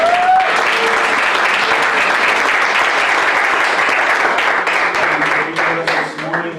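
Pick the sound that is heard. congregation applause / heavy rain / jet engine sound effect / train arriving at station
congregation applause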